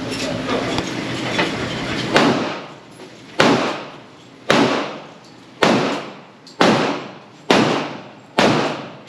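Shadow Systems DR920 Glock-clone pistol fires about seven sharp shots, roughly one per second, each a loud crack with a short ringing decay.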